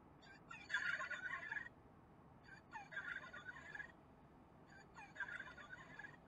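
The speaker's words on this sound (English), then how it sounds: "maybe you can hear the sound of him gobbling" Three short bursts of rattly, high-pitched gobbling from a small electronic toy turkey, evenly spaced with brief quiet gaps, faint against background hiss.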